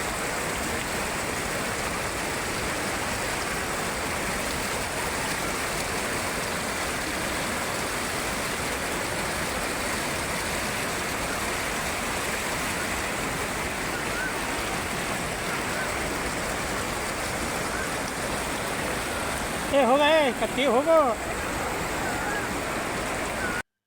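Heavy downpour at Gogaon in Akkalkot, with a flooded stream rushing in a constant broad roar of water and rain; a brief burst of distant voices rises near the end.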